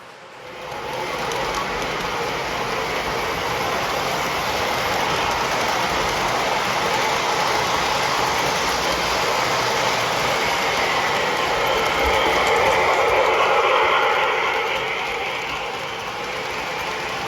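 A model MTH Union Pacific Challenger steam locomotive runs on a home layout, making a steady, fairly loud mechanical whir and rattle with a thin high whine that swells slightly and then eases off.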